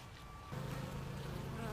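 Honeybees buzz around a backyard hive in winter, a steady close insect drone that swells and grows a bit louder partway through the short stretch.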